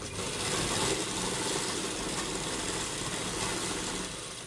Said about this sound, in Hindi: अब यहाँ पे हम एक जगह पे सिलाई लगाना शुरू करते हैं।